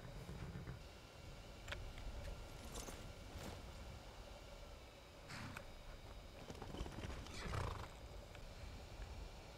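In the video game Skyrim, horse hooves clop irregularly with snorting and rough, roar-like animal sounds, moderately close over a steady background rumble; no one speaks.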